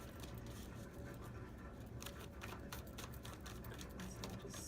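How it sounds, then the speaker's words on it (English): Tarot cards being shuffled by hand, a quiet, rapid run of crisp riffling clicks and flutters at close range, with no voice. "Let's finish shuffling these cards."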